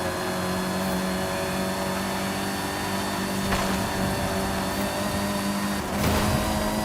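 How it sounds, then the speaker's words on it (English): A car engine in a racing video game holds a steady, loud mechanical drone with a couple of brief revving swells, continuous and close with no talking. "Why did hearing the engine sound so loud then?"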